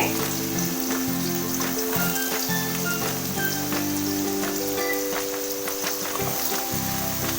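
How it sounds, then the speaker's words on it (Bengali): Potatoes fry in a pan for a ridge gourd dish, giving a steady, close sizzle that runs for the whole stretch and has no talk over it. "আলুগুলো আগে আমি ভেজে নেব ভালো করে লাল লাল করে"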